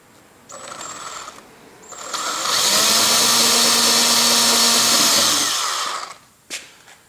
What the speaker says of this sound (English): drill that 1/4 inch hole up through the bottom while I still have it clamped on there